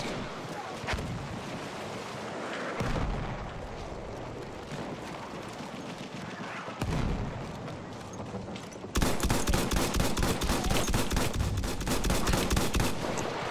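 Gunfire in the Battlefield 1 video game, scattered shots and machine-gun bursts building into a loud, sustained fusillade toward the end, with wind noise and a little talk beneath.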